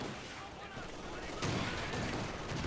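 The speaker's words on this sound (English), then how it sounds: "Grenade going off on the mortar." A grenade bursts on a mortar position in Company of Heroes 2, a loud broadband blast arriving partway through amid ongoing rumbling battlefield gunfire and explosions.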